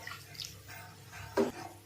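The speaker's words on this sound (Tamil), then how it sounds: "தண்ணி ஊற்றி அப்படியே அலசி விட்டுக்கலாம்." A little water is poured into a pan holding tomato to rinse it, giving a brief splash and trickle near the end after quiet kitchen clatter.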